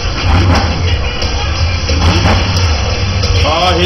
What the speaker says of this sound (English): As Extreme, our monster truck, lines them up for pass number one.